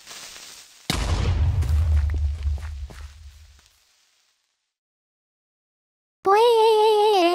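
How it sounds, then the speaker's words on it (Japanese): A house explodes in the video game Minecraft with a sudden loud boom and a rumbling blast that decays over a few seconds into silence, followed by a separate tonal sound. "家が爆発した"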